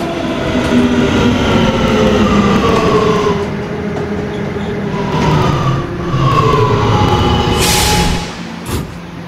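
A subway train runs in the Roblox game PTA Subway, a loud continuous rumble with rising and falling motor whine and a hiss of air near the end.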